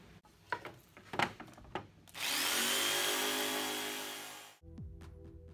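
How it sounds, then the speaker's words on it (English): A jigsaw cuts out a section of a 2x4 for a fish tank stand, a loud steady buzzing cut of about two and a half seconds after a few knocks and taps, then it stops and bumps follow. "One thing I would definitely recommend is use a jigsaw on this part unless you have a really good skill saw."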